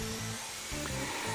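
Electric drill spinning at maximum speed while boring a large hole, a loud steady whine broken by short pauses and changes in load as the bit bites in.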